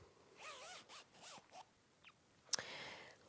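A zip is handled at a sewing table while a zipper foot is fitted, giving a few short, soft rasping zips spread out over a few seconds, with a quick, sharper zip near the end, all quiet and close.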